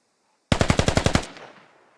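In a squad shooter game, a sharp burst of about eight rapid, evenly spaced gunshots rings out loud and close after silence, followed by a short fading echo tail.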